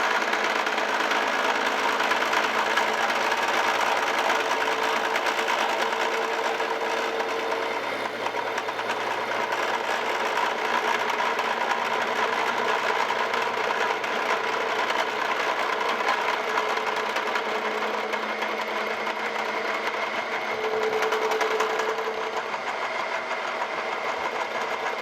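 A metal planer's cutter head cuts across a workpiece held in a vise, giving a loud, steady mechanical hum and rhythmic machine drone that holds without pause throughout, with no talk over it.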